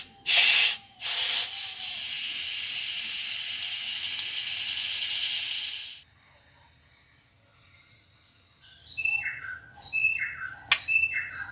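Steam released through the valve of an electric pressure cooker, a loud sustained hiss after a short burst, then cutting off and leaving quieter chirps and clatter.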